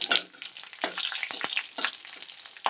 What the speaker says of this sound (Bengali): এবার কালো জিরেটা আমি একটু ভেজে নেব।